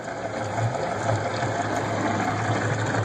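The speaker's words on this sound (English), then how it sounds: "a different sound, like a throaty kind of knocking sound." A 2005 Yamaha F250 outboard engine runs steadily up close, a continuous throaty drone with a faint low knocking pulse underneath, loud and alone with no talk.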